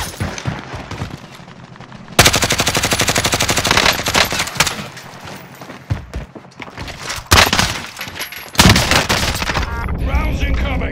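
Automatic rifle fire from a GRAU 5.56 in Call of Duty, loud rapid bursts of gunshots in long rattling strings with brief pauses, close and dominant, with radio-style voices briefly over it.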